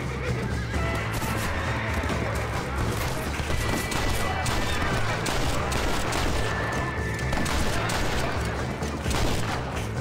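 Red Dead Redemption gameplay fills the scene with dense, loud gunfire in a chaotic fusillade, mixed with horse whinnies and hoofbeats, under a constant wash of game noise.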